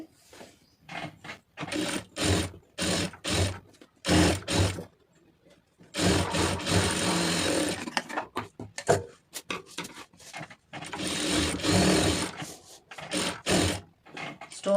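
Rapid mechanical chatter of a sewing machine stitching an Aari blouse, running in several loud bursts of a few seconds each with short pauses between.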